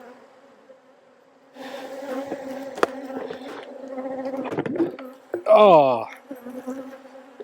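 Angry honeybees buzz around an open hive in August, a close, rising drone with individual bees zipping past loudly, and a person briefly exclaims.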